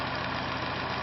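A 230V free energy generator spins steadily at around 435 RPM, giving a constant, even mechanical hum and whir close by with no change in pitch.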